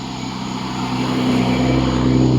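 A motor engine drones continuously and builds slightly in loudness as it revs, a steady buzzing hum with no voices over it.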